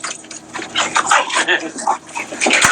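A dog yips, whimpers and barks excitedly nearby, close and loud, with a splashy, busy background.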